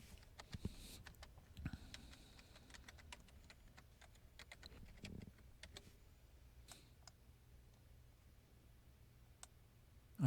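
Someone types a name and password on a computer keyboard, soft close key taps in uneven bursts, faint overall with quieter pauses between strokes.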